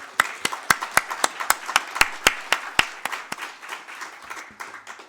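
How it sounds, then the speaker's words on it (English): A crowd claps in a quick, steady burst of applause after an opening speech, gradually thinning and fading out over about five seconds. "How about a nice round of applause, everybody?"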